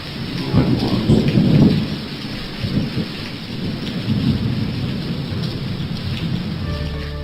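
Steady rain falls on surfaces while thunder rumbles low and heavy, loudest in the first couple of seconds and then rolling on more softly beneath the constant patter.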